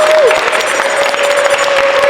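A convention panel audience applauds steadily and loudly, a dense wash of clapping with a faint tone running through it.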